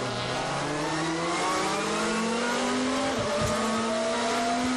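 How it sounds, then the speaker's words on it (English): A World Touring Car Championship race car in Argentina brakes and shifts down into turn 1, its engine note dropping and rising in loud, continuous revving with faint tire squeal, other cars audible nearby. "This is Tom Coronel heading down into turn 1."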